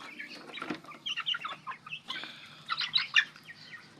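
Young Rhode Island Red chicks being fed chirp and cluck in quick, overlapping bursts, moderately close and fairly quiet, with no talking.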